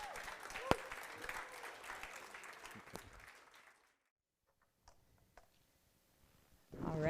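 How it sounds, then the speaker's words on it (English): Applause from a conference audience welcoming a speaker, moderately loud clapping that fades out after a few seconds into near silence before a voice begins. "Please give her a round of applause."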